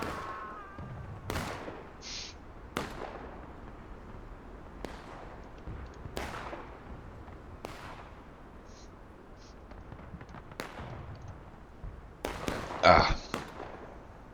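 Scattered single gunshots from a Civil War reenactment battle ring out at irregular intervals, sharp and fairly distant, with people calling out and cheering between the shots.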